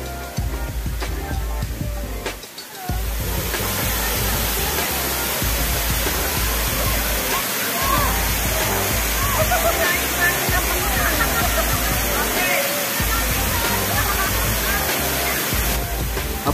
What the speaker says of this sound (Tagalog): madaming buhos ng tubig ngayon dahil sa ulan